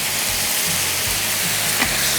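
Italian dressing from a jar hits a hot pan of cowboy stir fry, giving a steady, close, loud sizzle and hiss with a few soft pops, and no voices.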